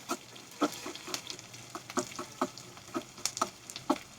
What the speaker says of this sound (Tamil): இது வெங்காயம் நல்லா ஃப்ரை ஆகணும்.